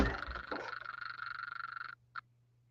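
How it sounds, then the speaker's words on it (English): Loud chorus of frogs croaking outdoors at night, a dense rapid pulsing trill that stops abruptly, followed by one short final croak amid a low steady hum. "we do hear the frogs are really loud"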